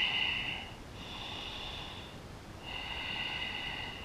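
Slow breathing during a power yoga pose for athletes, heard as two or three soft, airy breaths through the nose, close and quiet, with brief pauses between them.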